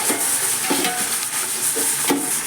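Oil sizzles steadily in a pan as mutton biryani ingredients are sautéed, with a spoon scraping and stirring at irregular intervals, close and continuous.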